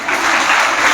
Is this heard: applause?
yes